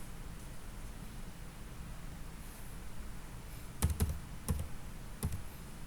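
A computer keyboard for a school library information system at MTsN 26 Pulau Harapan, with three or four sharp keystrokes in brief clusters late on, close over a steady low hiss.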